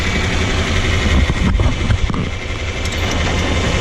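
An old John Deere 4020 tractor engine runs steadily to power a grain auger during an Iowa harvest, a loud, continuous low diesel rumble that holds close and even throughout.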